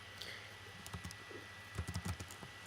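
A computer keyboard is typed on in short, faint bursts of irregular clicking keystrokes, with a quick flurry near the end.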